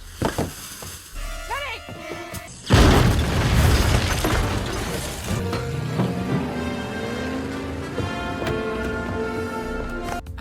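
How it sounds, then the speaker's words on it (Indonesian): A sudden deep dynamite explosion bursts in after quieter tones, then crackling debris and sizzling rumble linger with rising whistling tones. "akibat ledakan dinamit sebelumnya"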